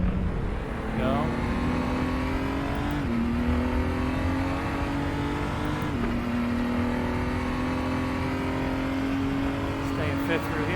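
A BMW M235i Racing car on the Sepang circuit drones loudly from inside, its engine pitch climbing steadily and dropping at gear changes, a continuous roar for ten seconds.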